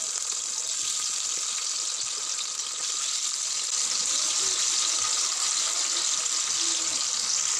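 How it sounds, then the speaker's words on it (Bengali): Fish frying in hot oil in a pan gives a steady, close, even hiss and crackle that runs unbroken throughout, with no voices over it. "তেল গরম হয়ে গেছে, এখন মাছগুলো ছেড়ে দেব।"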